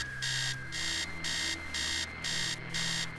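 An alarm rings in the horror text adventure game Stories Untold, sounding as a loud, bright electronic tone in regular on-off pulses, about five bursts, over a low steady hum.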